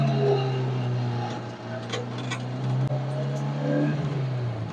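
A Honda S2000 track car's engine revs and holds at a steady high drone, loud and close, with small swells and dips in pitch over several seconds and no voices.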